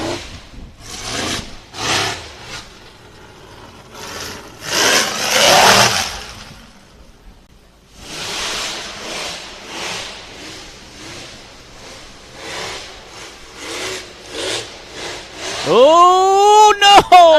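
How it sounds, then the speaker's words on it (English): A UTV buggy on a rocky boulder course revs its engine in short, loud bursts that climb sharply at the end, with a commentator talking throughout. "Man, that buggy is loud."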